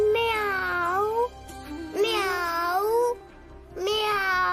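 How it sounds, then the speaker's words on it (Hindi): A kitten inside a house gives three drawn-out, plaintive meows spaced about a second apart, close and clear, with no talk around them. "ये बिल्ली का बच्चा कहाँ से आ गया घर में?"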